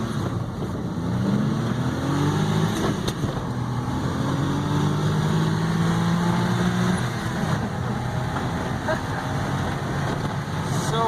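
A Suzuki Carry kei truck with a 660 cc, 60-horsepower engine drives through snow. Its small engine holds a steady, moderately loud drone that rises and falls slightly, with road and cabin noise throughout.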